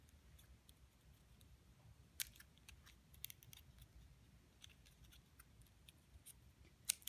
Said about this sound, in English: we'll take the scissors and cut on an angle